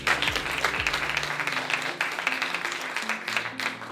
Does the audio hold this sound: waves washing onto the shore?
no